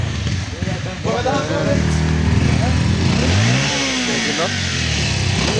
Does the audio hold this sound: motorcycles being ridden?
yes